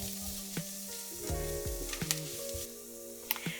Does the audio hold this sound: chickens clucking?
no